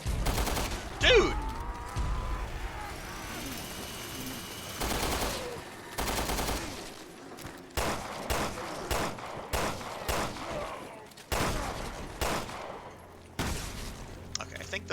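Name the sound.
machine gun fire in video game Resident Evil: Revelations 2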